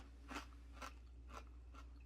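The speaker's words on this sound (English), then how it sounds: "That's a good crunch." Four crisp, close crunches as someone bites and chews a homemade garlic butter crouton made from French bread, evenly spaced bites over a low steady hum, with no talking.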